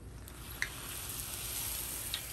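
Fry bread dough sizzling steadily in hot oil, a continuous soft hiss with a couple of faint pops, close and fairly quiet.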